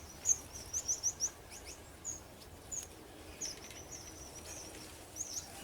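A small red siskin gives thin, high chirps, first in a quick run of four or five and then in scattered single notes, faint against a quiet indoor background.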